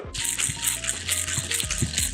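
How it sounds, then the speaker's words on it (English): Jungle Bird cocktail of rum, Campari and lime poured from a shaker tin over pebble ice into a glass, a steady close gush of liquid with ice clinks, no talking. "we're just gonna pour it into the glass, add our Pebble"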